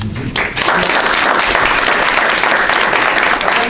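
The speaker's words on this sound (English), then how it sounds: "for that round of applause" An audience applauds at a community resiliency policy talk, a dense, steady wash of many hands clapping that swells in after a brief pause and holds loud and full without letup.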